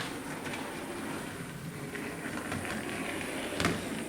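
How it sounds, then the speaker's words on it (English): A small train goes past, a steady rolling rumble with faint rhythmic clicks and one brief louder clatter near the end, fairly close, with no talk. "Here comes the train."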